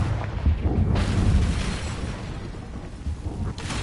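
A deep, rumbling blast from the Confringo fire spell in Hogwarts Legacy, booming loudly with a rolling low-end roar that fades into a sustained rumble before a second burst near the end.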